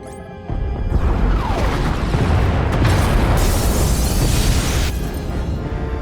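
Pod bays blow apart in the Star Wars: The Old Republic game, a sustained roaring wash of explosions and crashing debris that swells loud after a brief quiet start and rumbles on without a break.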